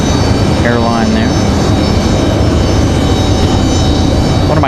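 A WestJet airliner passes at Raleigh-Durham International Airport as a loud, steady broadband engine roar that fills the whole clip, with a few brief tonal chirps riding on top.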